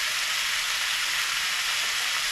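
Pumpkin and shrimp sizzle in a hot pan with butter and canola oil, giving a steady, dense hiss that stays close and even throughout with no talking.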